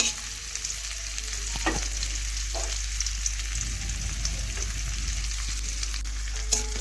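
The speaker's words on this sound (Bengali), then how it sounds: "পেঁয়াজটা তেলের মধ্যে দিয়ে দিচ্ছি। এখন পেঁয়াজ একটু ভালোভাবে লাল লাল করে একটু ভেজে নিচ্ছি" Chopped onion frying in oil with mustard seeds makes a steady, close sizzle that runs without a break, with occasional spatula scrapes and a low background hum underneath.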